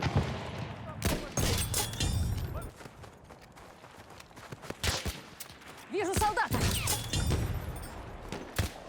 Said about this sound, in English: Let's listen to the first multiplayer suppressed weapon in Battlefield 1.